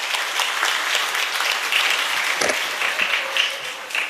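Audience applause breaks out for a third round, a steady crowd clapping that holds at a moderate level for several seconds with a brief louder burst partway through.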